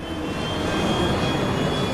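An airplane in sudden uncontrolled flight gives a loud, steady roar of engine and airflow noise with faint high whining tones, unbroken for the whole stretch.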